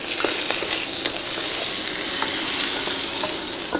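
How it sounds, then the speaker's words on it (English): Eggplant stew stirred in a hot pot, a continuous loud sizzling hiss with faint scraping and a few soft clicks of the spoon, no voices. "Make sure to stir this up a lot."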